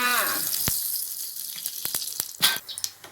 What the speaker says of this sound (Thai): ตั้งกระทะนะคะ เติมน้ำมันโอลีลงไปหนึ่งช้อนแกงค่ะ